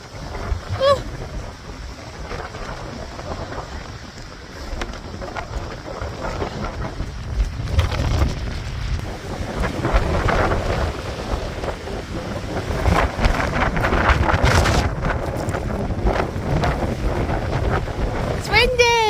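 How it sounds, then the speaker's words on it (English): Strong wind buffets the microphone outdoors during a long run near turning windmills, a continuous rumbling roar that swells and gusts, with faint voices partly buried underneath. "It's windy!"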